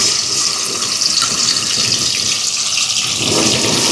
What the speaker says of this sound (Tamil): எண்ணெய் சூடாயிட்டு இப்போ இறாலை சேர்ப்போம்.